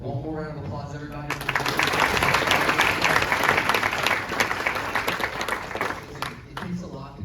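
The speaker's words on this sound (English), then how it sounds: "One more round of applause, everybody." An audience at an engineering speech event bursts into loud, sustained clapping that swells and holds for several seconds before tapering, with a voice speaking briefly before and after.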